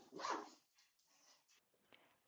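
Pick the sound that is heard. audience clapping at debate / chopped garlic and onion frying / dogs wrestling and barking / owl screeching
dogs wrestling and barking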